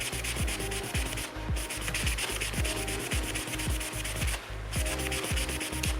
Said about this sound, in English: This one is a pretty fast